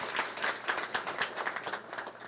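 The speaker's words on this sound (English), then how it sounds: "Let's give them another round of applause." Audience applause for speakers at a press conference, a steady wash of many hands clapping throughout the brief moment, moderately loud and without talk.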